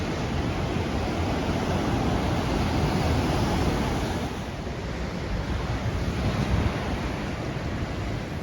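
Stormy ocean waves wash over a seawall in Vernazza, a steady windy roar of surf that dips briefly midway then surges again, with no talking.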